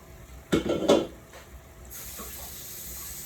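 Big spoon scraping and knocking in a frying pan as meatballs are turned, two or three close clattering contacts over a soft sizzle that continues after.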